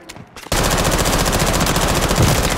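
After a brief quiet moment, loud sustained automatic covering fire in a video game erupts and keeps hammering without pause, a dense machine-gun stream that fills the rest of the clip.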